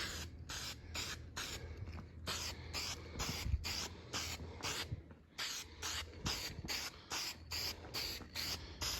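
Spray paint can laying a light coat on a vintage Delta DP220 drill press part, a series of short hissing bursts in a fairly even rhythm, with a brief pause midway, close and quiet.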